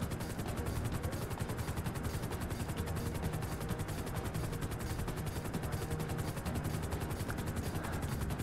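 A helicopter in GTA V Online flies with fast, steady rotor chop that fills the whole stretch, loud and close, with no talk over it.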